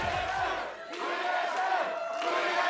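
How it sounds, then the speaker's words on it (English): A crowd in an esports arena at a League of Legends NA LCS match chants for TSM in a loud, steady roar, with a faint voice underneath. "I feel like that chant will get much louder"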